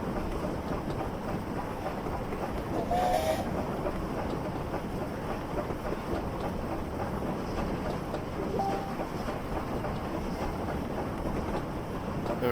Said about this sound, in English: And then leave the regulator open enough just to keep the train rolling.